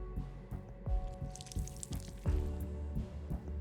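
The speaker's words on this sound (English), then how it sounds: "I'll go and add some water" Water poured and dripping in Whispers of a Machine, a series of soft wet drips and squishy splashes over a few seconds, close and moderately quiet, with no talk.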